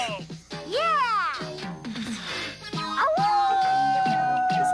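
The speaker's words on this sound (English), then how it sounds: "how about a howl from our favorite pal?" A pet dog howls and whimpers in drawn-out, rising and falling yips close by, with people talking and cheering over it.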